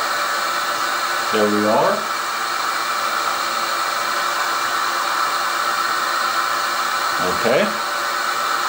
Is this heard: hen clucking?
no